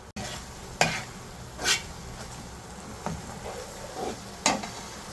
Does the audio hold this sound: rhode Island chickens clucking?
no